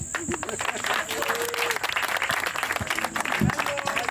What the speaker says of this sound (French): le président Terence Nzanga Mapangu, que je demande encore d'applaudir une fois de plus